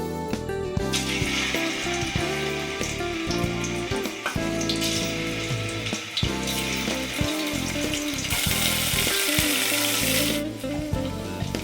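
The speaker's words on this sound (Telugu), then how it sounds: "పన్నీరు శుభ్రంగా కడిగి ఇది డైసెస్గా ఇలా కట్ చేసుకున్నానండి. ఇది కొంచెం ఫ్రై చేసుకుందాం." Paneer cubes frying in ghee in a pan, a continuous loud sizzle layered with repeated clanks and scraping of a utensil against the pan throughout.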